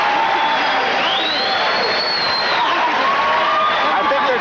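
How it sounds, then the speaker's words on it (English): A packed crowd at the Mirage roars and cheers during a kickboxing fight, a loud continuous wall of voices with rising whistles and shouts, a commentator talking over it. "This place at the Mirage is up and roaring."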